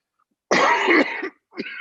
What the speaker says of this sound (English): I have this cough, I can't get rid of it.